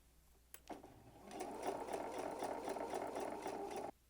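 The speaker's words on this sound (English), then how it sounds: "It makes it a little bit easier to sew through knitted fabric like socks." A sewing machine runs with all-purpose thread at a regular stitch length, sewing through knitted sock fabric. It starts after a click and whirs steadily and close for about three seconds, then stops abruptly.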